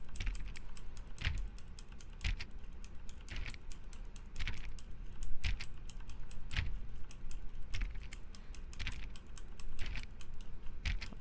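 Rapid repeated mouse clicks on a door in The Stanley Parable, a fast, uneven stream of sharp close clicks running without pause and accompanied by a low background hum.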